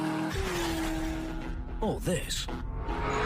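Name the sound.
Chevrolet Corvette C6 ZR1 accelerating, tires squealing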